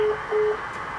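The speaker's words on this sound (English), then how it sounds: "That was her hanging up the phone" After a telephone call is hung up, a busy tone follows: short, steady electronic beeps repeat at an even pace over faint line hiss.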